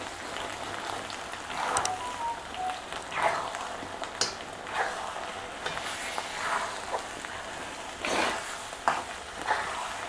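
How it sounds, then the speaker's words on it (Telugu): Onion paste being mixed into a pickle in a pan or bowl, giving soft wet squelching and scraping strokes in an irregular rhythm, close and moderately loud, with no talking. "ఇదంతా బాగా కలుపుకోవాలండి"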